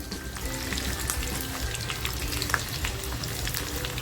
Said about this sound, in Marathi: पॅनमध्ये तेल टाकते आहे छान तापले लसूण टाकते